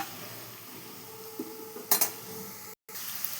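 Onions fry in a pan for a ridge gourd curry, giving a quiet, even sizzle broken by a couple of metallic scrapes and clinks from a stirring spoon.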